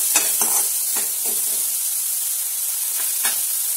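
Chopped tomatoes for paneer bhurji sauté in a hot pan with a steady bright sizzle, while a spoon scrapes and stirs in several short strokes; no one speaks.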